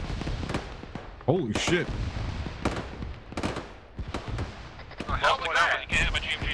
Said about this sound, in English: That's AI firing fucking RPGs like that.